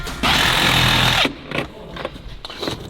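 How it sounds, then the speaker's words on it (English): A Sawzall reciprocating saw buzzes loudly for about a second while cutting through a rusty van floor and wiring harness, then stops abruptly, leaving a few short scraping and rattling bursts. "I just got real excited with the Sawzall"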